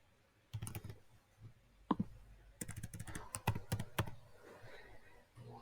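Someone types on a computer keyboard, with quick irregular bursts of close clicky keystrokes separated by short pauses.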